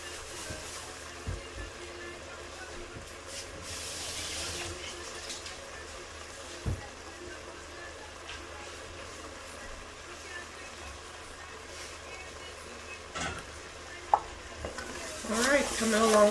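Spoon stirring peach ginger jam in a heavy Dutch pot, scraping across the bottom with soft low bubbling and a few sharper knocks, close and fairly quiet throughout.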